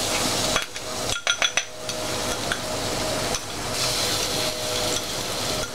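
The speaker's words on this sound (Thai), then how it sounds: "ทีนี้เราก็จะเริ่มผัดกระทะร้อนนะคะ" Thai chili paste sizzles in olive oil in a hot pan while a utensil clatters and scrapes against it in a few quick knocks, then steady frying continues.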